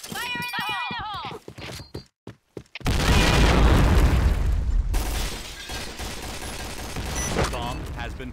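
A loud grenade explosion from the online shooter Piercing Blow bursts in and roars for several seconds before it thins out. Speech and brief game sounds come just before it.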